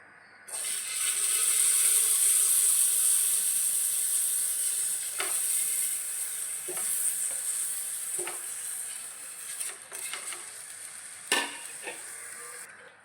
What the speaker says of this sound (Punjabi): ਲਓ ਜੀ ਤੇ ਹੁਣ ਆਪਾਂ ਪਾਉਣੇ ਆਲੂ